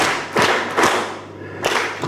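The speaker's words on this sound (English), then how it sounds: "Ladies and gentlemen, let's thank these people with a clap" An audience at a university conference claps to thank the organizing team, a few separate heavy thumping claps spaced out over two seconds, close and fairly loud.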